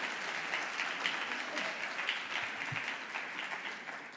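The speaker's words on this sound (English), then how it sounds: "a big round of applause for ma'am" An audience at a conference hall in Dubai applauds a chief guest with steady, dense clapping that carries evenly throughout and tapers slightly at the end, heard from a distance.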